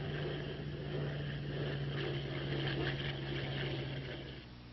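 P-39 Airacobra fighter plane engine in flight, a steady droning hum with a constant low tone and rough upper noise, slightly swelling and fading toward the end.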